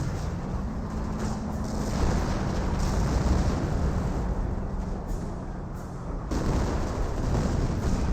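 Artillery fire in the Company of Heroes real-time strategy game, a dense continuous rumble of booming shells and blasts, loud and unbroken, with a brief dip before the barrage resumes.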